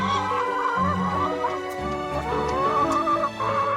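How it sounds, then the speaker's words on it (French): Hens on a farm with hundreds of chickens, heard as a busy, close chorus of overlapping clucks and short calls throughout. "Ça, c'est les poules. C'est les poules."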